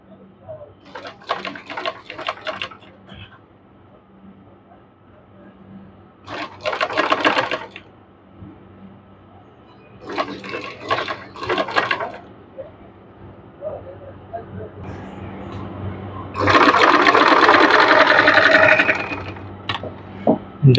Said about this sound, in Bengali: এরকমভাবে পাইপিংটিকে আমাদের সেলাই করে নিতে হবে